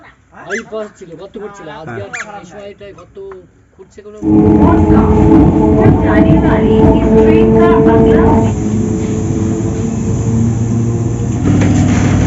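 A dog whines and yelps briefly, then a loud, steady train rumble with a droning tone rolls into a station platform and continues to the end.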